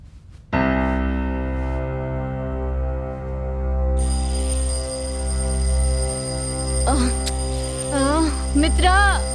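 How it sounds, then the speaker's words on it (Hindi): An electronic alarm rings steadily and loudly from start to end, beginning abruptly after a brief pause. Toward the end a voice speaks over it. "मित्रा, अलार्म बज रहा है।"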